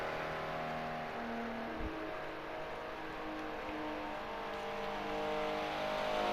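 Race cars lapping the Monza Oval at about 140 mph, engine drone rising and falling as cars pass, with a steady whirring tone held in the background at modest level.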